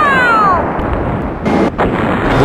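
Bombs dropped from a B-1B Lancer in Fighters Anthology burst as a loud, booming explosion. A couple of sharper cracks follow and fade into rumbling noise, after a falling whistle at the start.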